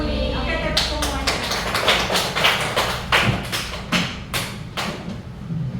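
Group clapping in an Indonesian classroom: a steady run of many sharp claps, close and fairly loud, with voices talking faintly underneath.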